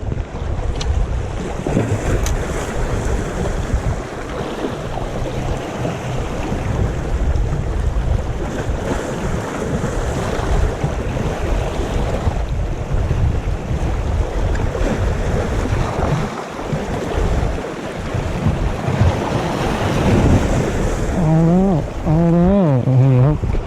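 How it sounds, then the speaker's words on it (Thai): Strong sea waves crash and surge at the shore during a fishing outing, with a steady roar of surf and heavy wind buffeting the microphone throughout. "แหมลงลุยน้ำตีไม่ได้แล้วคลื่นแรงครับน้ำสูงครับ"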